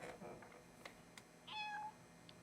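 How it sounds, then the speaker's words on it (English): A domestic cat meows once in a short rising-and-falling call, faint and somewhat distant, after a few soft clicks and thumps in a quiet room, with low background voices earlier. "When did we get a cat?"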